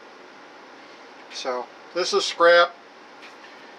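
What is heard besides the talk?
whirring kitchen air conditioner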